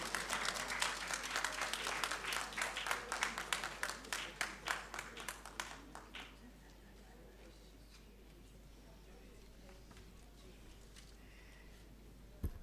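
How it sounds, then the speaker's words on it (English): Audience applause at a forum on women in government and media, dense clapping for about six seconds that thins and stops, followed by quiet room tone. "Please, with a round of applause."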